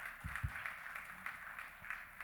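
Audience applause at a civic address by the Mayor of Kochi Municipal Corporation, a steady, fairly faint patter of many hands clapping continuously, with a few louder low thumps near the start.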